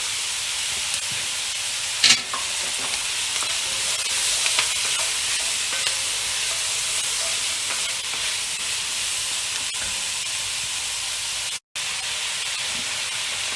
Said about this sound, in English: So onions first, give them a stir.